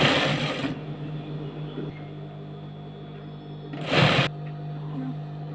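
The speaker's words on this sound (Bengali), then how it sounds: "এই মাথাটা সেলাই করে নিতে হবে" A sewing machine stitches the end of a piece of work, its motor giving a steady, even hum close by, with two short louder bursts of handling noise at the start and near the middle; no talking.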